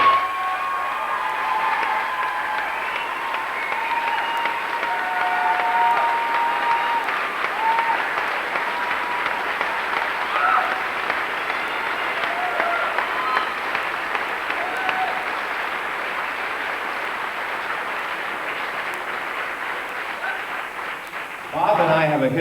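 A crowd at an awards concert gives sustained applause, a dense, steady wash of clapping lasting many seconds before it tapers off at the end.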